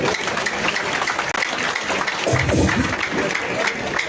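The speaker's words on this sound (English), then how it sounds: "I'll ask each of us to clap for our able panel" A crowd at an NUP manifesto rally with Bobi Wine claps for the panel, a loud, thick, sustained burst of many hands with a faint crowd murmur beneath.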